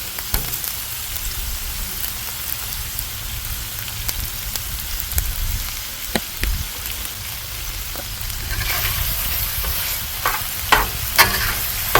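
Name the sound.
stirring BBQ sloppy joe meat on a Hasty Bake griddle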